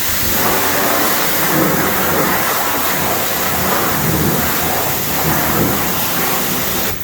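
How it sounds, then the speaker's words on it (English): A pressure washer on rinse sprays down the engine bay of a 6.7 diesel truck, firewall and inner fender, a loud continuous broadband hiss and rushing spray with a low pump drone underneath, no talking. "Switch over to rinse, and I'm going to get the firewall of the inside of the fender."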